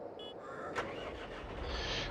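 Tractor engine in Farming Simulator 22 cranks and catches, then settles into a steady mid-pitched running hum, fairly quiet, with a short click near the start.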